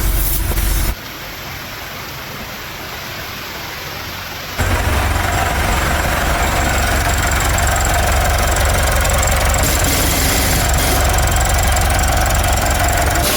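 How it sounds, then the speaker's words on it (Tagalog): Mitsubishi Pajero Sport engine with a low-power fault running, a loud, steady mechanical drone that grows heavier after a few seconds and continues unbroken, close to the microphone, with no talking. "try natin start, engine on, tapos subukan nating paandarin"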